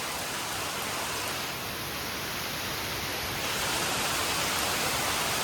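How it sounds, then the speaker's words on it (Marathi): Heavy rain pours steadily with gusting wind, a dense unbroken roar outdoors that swells slightly louder toward the end. "मस्तपैकी वारा सुटलाय आणि खतरनाकवाला पाऊस पडतोय"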